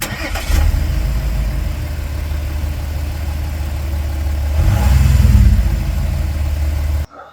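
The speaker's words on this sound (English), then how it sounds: "So I'm just gonna have the car idle for a bit" An Audi SQ5 diesel engine with a blocked DPF idles steadily at close range during regeneration, a low continuous rumble that swells briefly before cutting off at the end.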